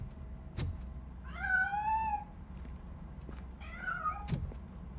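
A cat in the RoboCop: Rogue City video game gives two drawn-out meows over a steady low background hum, with sharp thuds before and after.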